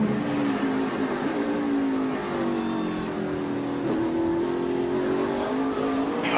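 Kyle Busch's race car engine roars steadily from onboard, a loud continuous drone with shifting pitch as the car accelerates and holds speed.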